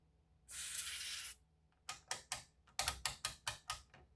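A single sustained hiss of contact cleaner sprayed into a Tektronix 2235 oscilloscope's pots and switches, then a run of sharp mechanical clicks of a switch turned in quick succession, close and alone.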